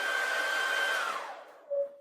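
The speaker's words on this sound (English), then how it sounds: "Now, Viking, I'm going to switch my hairdryer off" A hair dryer blowing steadily at close range, a loud broadband whoosh with a faint whine, that fades away as it is switched off, followed by a brief tonal hum.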